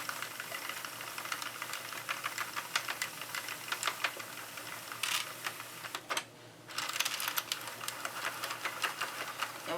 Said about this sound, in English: now we're going to go ahead and start back cranking